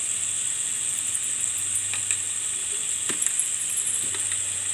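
Chicken sizzles steadily in a frying pan as chili powder is stirred in, a continuous close hiss with occasional scraping clicks of the spoon against the pan.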